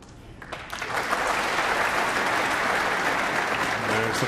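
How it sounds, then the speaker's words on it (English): Crowd applauding at a UK Masters snooker match at Alexandra Palace, clapping building from quiet to a sustained, loud ovation filling the hall. "There's the crowd at the Alexandra Palace."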